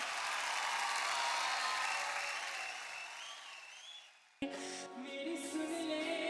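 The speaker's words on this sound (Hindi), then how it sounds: "जगप्रीत के लिए जोरदार तालियां हो जाए भाई" A television singing-competition audience applauding a singer, dense sustained clapping that slowly fades, then gives way to music.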